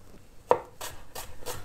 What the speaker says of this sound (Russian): Мы нарезаем лук.